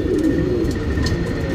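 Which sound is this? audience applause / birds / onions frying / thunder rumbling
birds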